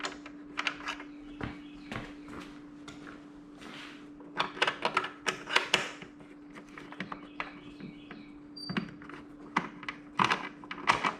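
Captive cover screws on an Allett Kensington mower cartridge give sparse, faint clicks and taps that come in small irregular clusters over a low steady hum.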